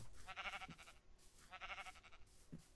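Sheep in a Minecraft-style video game bleat twice in a row, faint and evenly spaced, with no talking.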